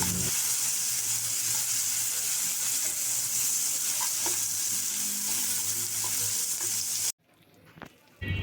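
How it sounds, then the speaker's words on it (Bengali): Chopped onion and green chili sizzle loudly in leftover fish-frying oil while being stirred, a continuous crackling fry with occasional scrapes, cutting off abruptly near the end to a quieter room with a few clinks. "সে মাছ ভাজার তেলের মধ্যে পেঁয়াজের কুচি এবং কাঁচা মরিচের ফালি দিয়ে ভালো মতো নাড়াচাড়া করে নেব।"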